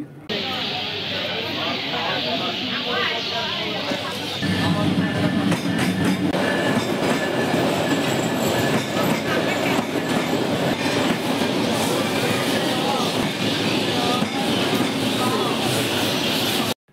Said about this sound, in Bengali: সবাই হা করে তাকিয়ে আছি, ট্রেন আসতেছে